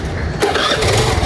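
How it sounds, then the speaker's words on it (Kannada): A motorbike's engine runs loud and close as the bike arrives, a steady rough mechanical rumble with a surge partway through. "ಬೈಕ್ ಬಂತು"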